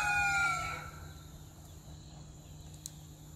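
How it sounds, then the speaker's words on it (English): A rooster crows loudly nearby at an outdoor campfire cooking site, one strong call in the first second that fades out, then quiet open-air background with a faint distant click. "Now those roosters are going to start fighting each other,"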